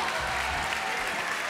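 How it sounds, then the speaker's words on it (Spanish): Audience applause at a Vértigo 2005 television show, a brief soft patter of many hands clapping, steady and fairly distant, with no voices over it. "Señor, por favor, un aplauso fuerte."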